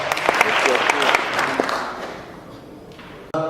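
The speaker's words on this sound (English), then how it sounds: "How about a big round of applause for Lee Labrada." An audience at a bodybuilding seminar claps in a steady burst of applause that fades out over a few seconds, with a voice cutting in at the end.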